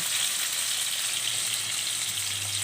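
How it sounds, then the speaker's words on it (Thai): King mackerel fish frying in a pan gives off a steady, dense sizzle with a faint low hum underneath, continuous and close, with no voices. "ในระหว่างการ ทอดนะคะ"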